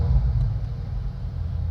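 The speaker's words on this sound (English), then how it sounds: "listen to the E63 S Final Edition sound" A Mercedes-AMG E63 S Final Edition V8 gives a brief, deep rumbling burst on its start, heavy low-end roar close by with no talking.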